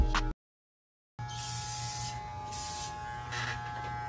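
Electric hair clippers buzz steadily through a home quarantine haircut, sounding close and continuous after a short silent break near the start.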